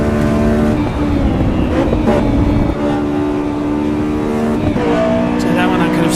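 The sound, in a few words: Honda S2000 engine revving in VTEC, Assetto Corsa EVO video game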